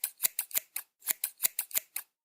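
A pair of scissors snips ten or so times in quick, uneven bursts, each cut a crisp close metallic click and slice in an otherwise quiet room.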